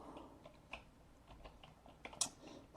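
Keys clack on a computer keyboard as an email address is typed, with soft, irregular taps at close range, quiet overall and with a sharper burst of strokes near the end.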